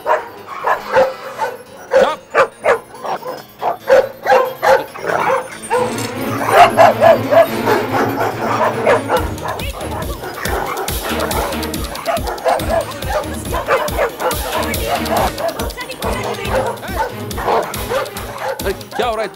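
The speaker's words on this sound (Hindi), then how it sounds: "ओए कुत्ते लोग चुप." Several dogs bark, yip and whimper in rapid, overlapping bursts, loud and close, with agitated barking continuing the whole time and a voice occasionally mixed in.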